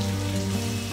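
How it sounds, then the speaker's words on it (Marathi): Stuffed brinjals for Maharashtrian bharli vangi are sautéed with leftover masala in a pan, giving a steady, dense, close sizzle with no pause. "आता पहिल्यांदा हलक्या हाताने वांगी परतवून घेऊयात"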